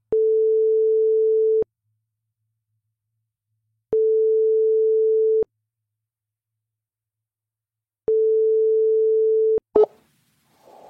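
Telephone ringing tone heard while placing a call: three long steady tones of about 1.5 seconds each, separated by about 2.5 seconds of silence, then a click and a brief noise as the line picks up.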